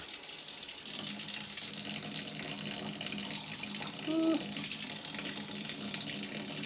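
Warm tap water pours steadily into a glass jar holding sugar, a continuous even splashing rush that holds at the same level from start to finish, with no talking over it.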